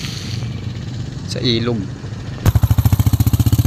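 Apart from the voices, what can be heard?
tricycle passing by on the road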